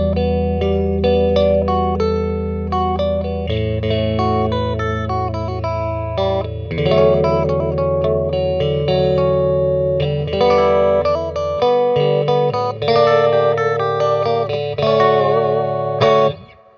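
A Fender Jaguar is played through effects with all three pickups combined out of phase, producing a loud, thin, hollow run of picked notes and chords, steady and busy throughout, with no talking.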